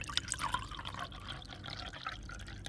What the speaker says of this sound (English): You pour this water inside.